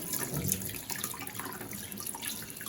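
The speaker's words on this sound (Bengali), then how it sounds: "তো এটা পরিষ্কার করে এখন ধুয়ে নিতে হবে" Water runs steadily while goat meat is washed, a continuous close splashing stream with small fluctuations as the meat is handled, no talk.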